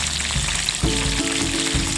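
Steady, loud sizzling of fried chicken frying in hot oil, a constant crackling hiss with a faint low hum underneath.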